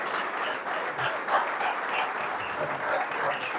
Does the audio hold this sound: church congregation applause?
yes